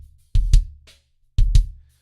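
Kick drum in a mix with SSL-style channel processing switched back on, its boxiness around the low mids cut; two short double-hit patterns, each a thump then a second stronger thump, dry and close with a gap between.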